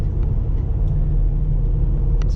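An Infiniti QX56 engine strains at high revs while climbing a freeway on-ramp, giving a loud, continuous, close rumbling drone heard from inside the cabin.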